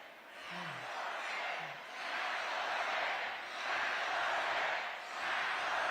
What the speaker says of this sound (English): Well, this crowd is fired up.